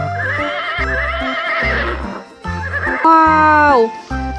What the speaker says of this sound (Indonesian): Ini ada kuda warna coklat.